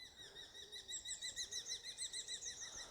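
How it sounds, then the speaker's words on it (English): A bird of prey calls repeatedly in a rapid, rhythmic series of high, clear notes, steady and fairly distant over faint woodland background. "Oh, it's a bird of prey."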